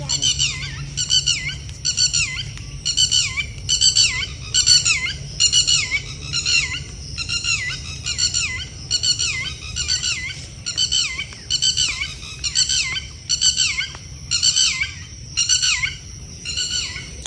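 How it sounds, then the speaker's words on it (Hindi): Many birds call loudly and continuously near waterlogged fields in Dimapur, Nagaland, in repeating squawking bursts, forming a dense, steady chorus close by. "देखो यहाँ पर कितने सारे पक्षी बोल रहे हैं,"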